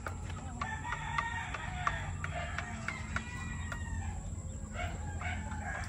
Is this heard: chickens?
yes